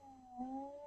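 A pet cat gives one short, drawn-out meow, fairly soft and close, with a slight rise in the middle and a quiet room behind it.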